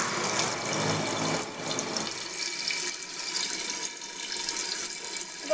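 Water from a 2000 Saniflo toilet pours steadily into the tank as a close, continuous rushing stream that thins slightly partway through, with no talking.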